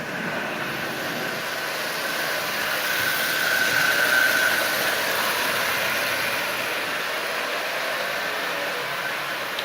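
A Marx 999 toy locomotive's electric motor running on a track at about 40% power, giving a steady whirring hum with a faint rise in the middle, close and continuous with no talking.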